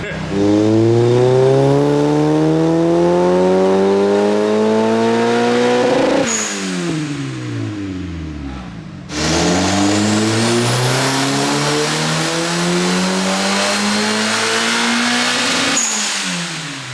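A turbocharged Mazda Miata makes two long dyno pulls, its engine note climbing steadily to a loud high-rpm scream before dropping off with a turbo whoosh, close and dominant.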